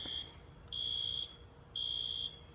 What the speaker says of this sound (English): Wow, this gate is opening.